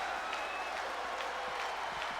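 Steady wash of crowd noise fills an arena at a wrestling match in WWE 2K20, a constant roar with light applause-like texture and no clear peaks, continuous across the moment.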